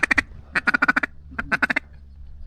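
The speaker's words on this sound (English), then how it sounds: "2 Drake mallards." Two drake mallards quacking as they pass overhead during a duck hunt on a frozen river, a fast run of loud, clipped quacks in three quick bursts close by.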